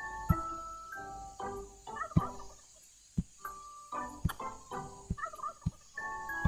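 Turkeys in the Roblox game Wacky Wizards gobble in short warbling bursts, several calls overlapping with sharp clicks and game effects between them, fairly quiet with no talking.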